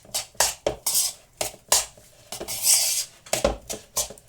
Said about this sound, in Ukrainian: І це все діло до однорідної маси перемішати